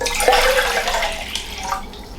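Water pours and splashes into a Jetboil backpacking stove pot for a couple of seconds, a close, fairly loud gurgling rush that tapers off.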